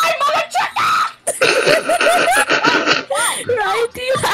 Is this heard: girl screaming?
yes